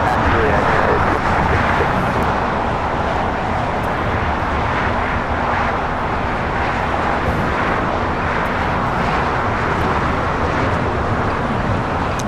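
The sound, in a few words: airliner taxiing at LAX toward runway 25 right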